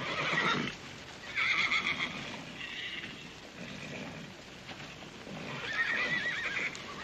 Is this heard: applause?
no